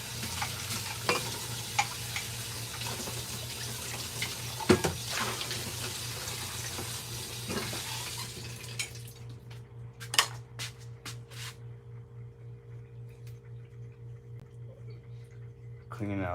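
A mug rinsed under a running kitchen tap: a steady, close rush of water for about eight seconds, then the flow stops, leaving a low hum and a few light clinks.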